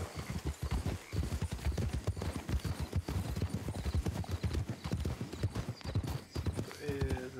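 A donkey's hooves clip-clop in a steady, close rhythm in the Red Dead (RedM) roleplay game, with faint background talk and a brief tonal squeal near the end.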